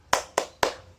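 Hands clap out a quick rhythmic spirit cheer, three crisp, even claps in about half a second, close and fairly quiet with nothing else around them.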